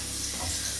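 Onions fry in a large pot for a 15 kg batch of spicy chicken biryani, giving a steady, close sizzle with faint stirring scrapes throughout the short moment.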